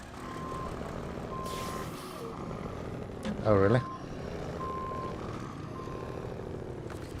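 A truck reverses in a trucking game set in British Columbia, its warning beeps pulsing evenly over a low engine hum while a voice briefly speaks.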